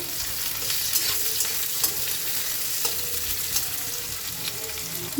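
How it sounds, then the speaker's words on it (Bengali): Chopped onion with a pinch of five-spice seeds frying in oil in a wok while being stirred, making a continuous close sizzle with repeated scraping strokes of the spatula, with no talk. "আমি পেঁয়াজ কুচানোটা দিয়ে দেবো কড়াইয়ের মধ্যে"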